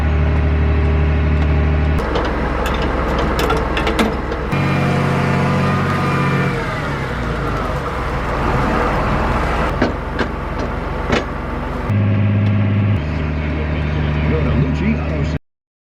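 A harvest truck in high gear drives a smooth road, a steady loud engine drone and road rumble filling the cab throughout, with shifting tonal hum and brief rattles, ending abruptly.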